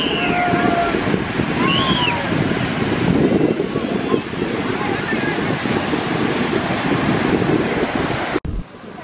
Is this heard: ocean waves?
yes